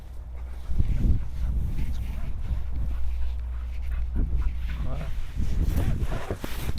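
A somewhat wild dog on a leash whines and gives a few short yelps, fairly close and steady over a continuous low rumble, with some speech mixed in.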